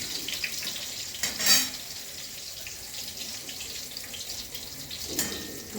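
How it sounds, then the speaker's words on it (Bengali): Eggplant slices frying in a pan, a moderate steady sizzle with a couple of brief louder hissing bursts, no voices. "আজকে উঠে এসে একটু বেগুন ভাজছি আর একটু মাছ ভাজবো"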